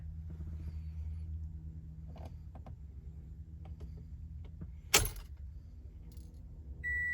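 Car keys jingling faintly at the ignition of a 2015 Toyota Camry, a few light metallic clinks over a low idle rumble, then a sharp click as the key turns.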